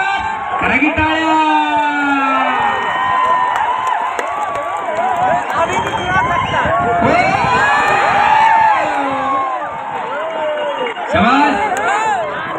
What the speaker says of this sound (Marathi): अरे बाप रे बाप, करा की टाळ्या.